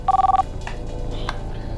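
A telephone rings close and loud, a quick electronic burst of rapid repeated tones that stops abruptly, followed by faint room noise.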